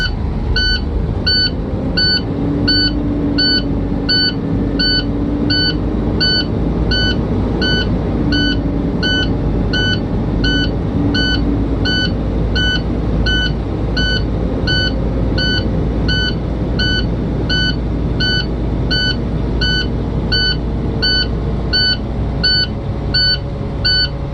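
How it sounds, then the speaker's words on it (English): A steady, evenly pulsed electronic warning beep repeats inside a truck cab over the continuous drone of the diesel engine held at raised RPM, with no talk. "I'm going to bring my RPMs up until the beeping stops."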